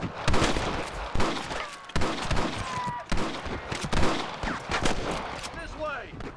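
Gunshots in the western game Red Dead Redemption: several sharp, loud reports ring out at irregular intervals, close by, with echoing tails and bits of talk between them.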